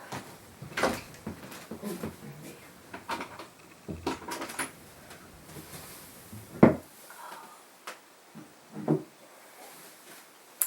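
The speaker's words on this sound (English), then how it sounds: "Let me close the door" An indoor door is handled and shut, with scattered soft wooden knocks, rattles and a firmer thud of it closing, followed by a few quieter clicks, all close by in a quiet room.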